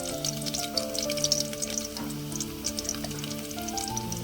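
Garlic and dry red chillies crackle and sizzle steadily in hot oil for a South Indian tempering, a close, continuous frying hiss with small pops throughout.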